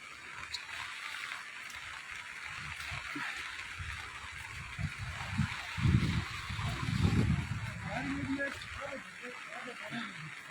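A flooded mountain stream, Ogi Nala near Saroor, rushes with a constant broad hiss of flowing water while people talk over it nearby.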